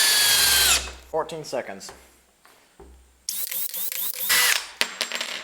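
Dewalt cordless drill driving five screws in a timed comparison test, with bursts of high motor whine starting and stopping, between stretches of talk and a quieter pause.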